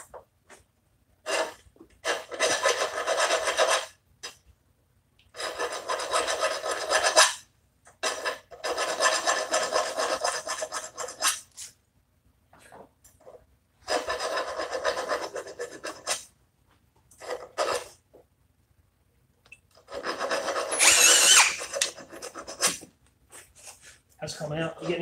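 A cordless drill, either a Milwaukee M18 Fuel Gen3 hammer drill or a Ryobi 18V One+, bores into wood with an auger bit. It makes about five separate bursts of harsh, rasping chewing, each a few seconds long, with quiet pauses and brief talk between them.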